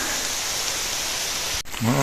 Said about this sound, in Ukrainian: Дощик накрапає, вітер дує.